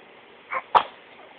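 A sneeze, likely from a dog, heard as two short, soft bursts in quick succession, the second sharper, against quiet room background with no talking.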